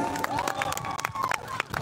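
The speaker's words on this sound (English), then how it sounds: "All give a big round of applause once again to all the winners." Applause and crowd noise for competition winners at an open solo competition organized by a students union, a brief burst of clapping and cheering from an audience.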